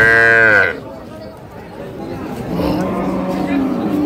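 A dairy cow at the Ambari cattle market in Dinajpur lets out one loud, close moo lasting under a second. People then talk over the murmur of the market.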